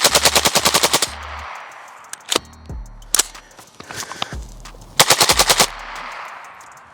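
Suppressed rifle with a forced reset trigger firing in rapid bursts, tight strings of loud close shots opening and closing the clip with scattered single shots between, echoing outdoors, no voices heard.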